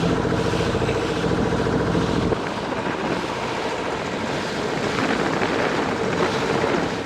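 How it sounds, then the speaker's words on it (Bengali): A small covered trawler runs on the Pasur river in the Sundarbans at high tide, its steady engine drone blended with heavy rushing wind and water noise, continuous and loud throughout. "আমাদের ছই লাগানো ছোট্ট ট্রলারটি ছুটে চলেছে পশুর নদীর মাছ দিয়ে।"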